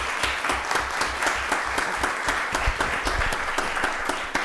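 A round of applause fills a county board of commissioners meeting for employee nominees, dense continuous clapping from the room, loud and sustained for the whole stretch.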